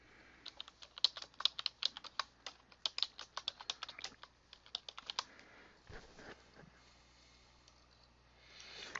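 Rapid, close computer keyboard typing with dense, crisp keystrokes for several seconds, then a pause with faint handling noise and a last soft click, quiet overall.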